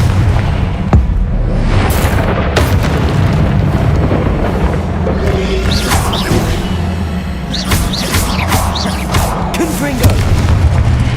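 Confringo blasting spells in Hogwarts Legacy set off repeated heavy booms and sharp crackling bursts over a constant low rumble, with a voice shouting the spell name during the explosions.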